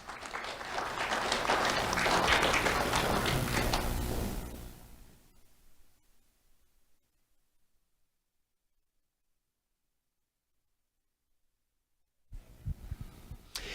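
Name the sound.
audience applause for award recipient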